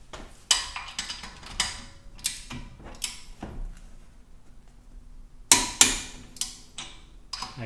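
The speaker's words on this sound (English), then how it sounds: "Now I have here the torque wrench, and it is set to 50 foot-pound of torque." Sharp clicks and ratcheting snaps from a hand torque wrench set to 50 foot-pounds, with several crisp clicks spaced irregularly and a short quiet gap in the middle, close and alone with no voices.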